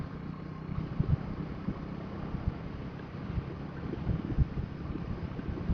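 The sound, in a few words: strong wind blowing into microphone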